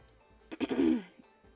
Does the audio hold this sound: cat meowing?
no